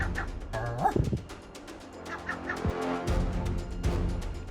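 A seagull answers a man's dog-like barking with barking calls of its own, sharp harsh cries trading back and forth at close range over a steady background, with no talk. The man's barks imitate a dog.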